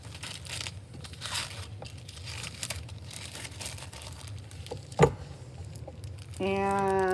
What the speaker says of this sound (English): And I'm going to put it in my plastic bag.